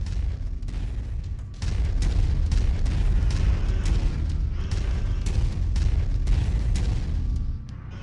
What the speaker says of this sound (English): Long-range missiles are set to Weapon Group 3.